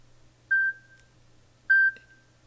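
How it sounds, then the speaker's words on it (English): A cell phone alarm clock set to beep every quarter hour gives two short, clear electronic tones about a second apart, each holding steady briefly, over a faint low hum. "I have it set to beep every quarter hour."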